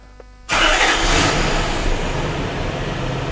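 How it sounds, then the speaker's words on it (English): A Lexus LS 400 that runs too rich cranks and fires up abruptly, then settles into a steady, close idle with no talk over it. "Now I can start the car."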